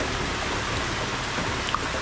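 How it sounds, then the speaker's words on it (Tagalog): Steady rain pours down outdoors, a dense, even hiss of drops hitting surfaces with no pauses or voices, close and fairly loud throughout. "Talagang maulan ngayon mga kawaki."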